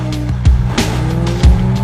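Porsche 911 with a rear-mounted flat-six engine drives past with a steady engine drone, punctuated by two short low thumps or tire chirps, heard close and alone.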